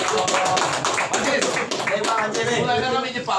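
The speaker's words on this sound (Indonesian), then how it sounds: "Tepuk tangan untuk kita semua." Crowd at an election campaign rally in Lanjak, Kapuas Hulu, claps together in a dense, steady burst, loud and close, with voices and cheering mixed in throughout.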